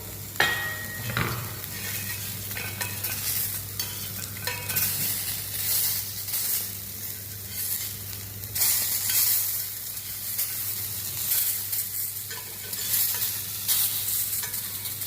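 Fish frying in a hot oiled pan, sizzling continuously up close, with repeated scraping and clattering bursts as the pieces are stirred and flipped.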